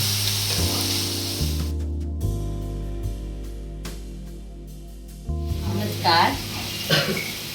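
Pomfret fish frying in a pan in a Konkan home kitchen, a steady close sizzle with occasional stirring and scraping noises, heard alone without talk.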